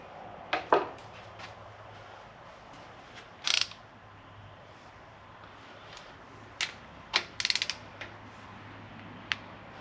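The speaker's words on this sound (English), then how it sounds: "Now we'll torque it and check it again." Torque wrench tightening an adjuster on Jesel sportsman rocker arms of an engine, giving several short metallic clicks and ratchet ticks in quiet, scattered and close, with a brief burst midway and a cluster near the end.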